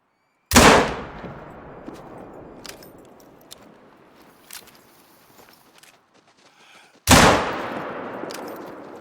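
Two loud rifle gunshots a few seconds apart in Hunter: Call of the Wild, a deer hunt in the Yukon, each a sharp crack with a long rolling echo, separated by faint footsteps and rustling.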